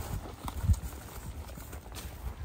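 A horse canters on wet ground, its hooves beating out a quick, uneven rhythm of soft thuds close by, with no voices.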